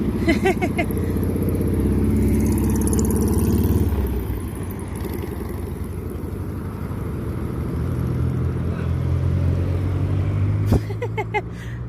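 A police car drives past near a protest outside a Kingdom Hall, its engine a steady close rumble that rises and then fades, while people talk nearby.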